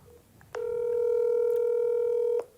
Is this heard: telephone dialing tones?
yes